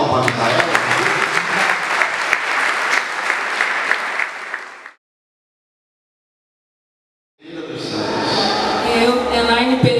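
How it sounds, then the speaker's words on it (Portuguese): Wedding guests at a church ceremony break into loud, dense clapping for the groom for about five seconds, then fall silent, followed by voices. "Dá uma salva de palmas para Misael."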